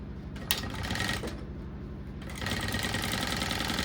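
A sewing machine runs a steady topstitch along the lining of a pencil case, its rapid needle chatter continuous and close, briefly easing off before picking up again at full speed.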